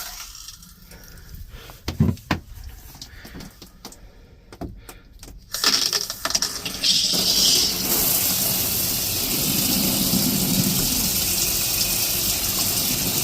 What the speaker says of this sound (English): Let's try turning on the shower.